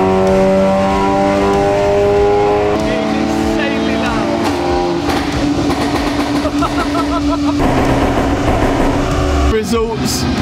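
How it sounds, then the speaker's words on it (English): A tuned Audi S3 engine revs hard and loud on a dyno, climbing through the range in sustained pulls with rasping exhaust and a brief drop near the end. "Now the car is stupidly loud."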